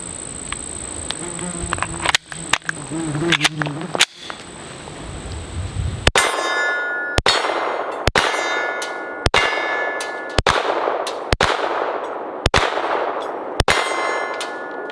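Pistol rounds from a Canik TTI Combat striking a steel target at a range, a run of about nine sharp metallic dings at a steady rhythm, each with a bright ringing decay, following several closer shot cracks.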